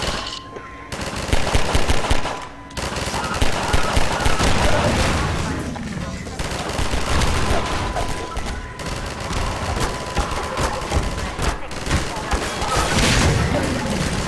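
Loud, sustained video game gunfire in Synergy, with dense automatic bursts rattling almost nonstop and a few short gaps, while players talk over it.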